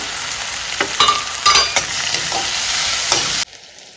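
Curry leaves, onion and a tomato fry in a pan for a jackfruit-seed stir-fry, with a loud continuous sizzle and several scraping stirs, cutting off abruptly at the end.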